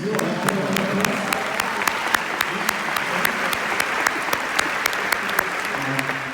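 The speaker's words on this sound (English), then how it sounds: "You want to clap your hands, please?" Steady applause from a conference audience at EXMA 2019 with Barack Obama, many hands clapping continuously at a moderate distance, sustained for several seconds without a break.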